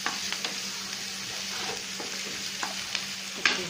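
Turmeric is stirred into a drumstick and tomato curry frying in a pan, a steady close sizzle broken by soft scrapes and light taps of a spoon, with a low hum underneath.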